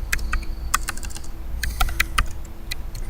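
Computer keyboard keys tapped in quick, uneven clusters with brief pauses, close and clear over a low steady hum, while a new project name is typed into Katalon Studio.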